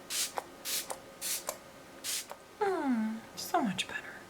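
Fix Plus setting spray is misted in several short, breathy hissing bursts, each lasting a fraction of a second, followed by someone talking close to the mic.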